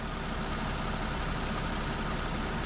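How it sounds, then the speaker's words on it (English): A car's air conditioning pump running during a refrigerant recharge while the engine idles: a steady, even mechanical hum and whir held at constant loudness, with no talking. "You can hear the AC pump staying running now"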